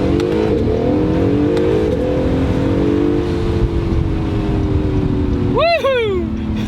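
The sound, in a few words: 2018 Acura NSX downshifting with whine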